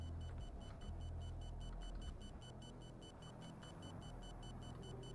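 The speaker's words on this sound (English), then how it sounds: "Ooh, who's beeping?" A rapid, evenly pulsing electronic beep repeats steadily throughout a Doom game session, faint and tinny under a heavy low rumble of background noise.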